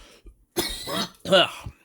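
Two short, harsh coughs close to the microphone, separated by a brief pause, with a small throaty sound before them.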